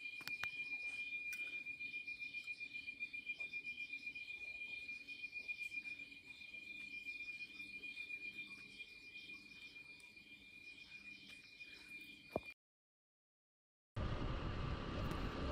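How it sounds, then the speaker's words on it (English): Crickets chirp steadily at night in rural North Vietnam, a dense continuous trilling with a high whining tone running through most of the recording before a brief cutout and a burst of rougher noise. "I'd had a few minutes to just look at the moon and listen to the crickets, of course."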